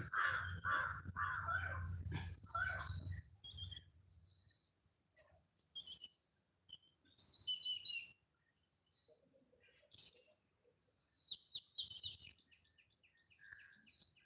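Birds call outdoors in bursts: a crow caws and smaller birds chirp, their calls separated by stretches of near silence.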